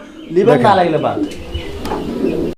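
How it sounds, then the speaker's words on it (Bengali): A pair of red checker fancy pigeons at a pigeon sale coo in a low, close warble, with someone talking over them. "এটা হচ্ছে আপনার রেড চেকার কবুতরের একটা জোড়া"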